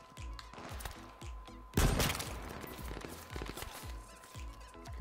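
Rapid bursts of gunfire from the battle royale game H1Z1, a sustained volley of shots with a loud, dense barrage near the middle, repeated rhythmic reports throughout.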